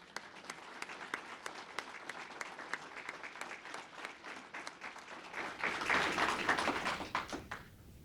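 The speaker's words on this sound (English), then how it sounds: "Let's give him a round of applause." Audience applause at a police awards ceremony as an officer receives a Meritorious Service Award, steady clapping from a room of people that swells louder near the end before cutting off.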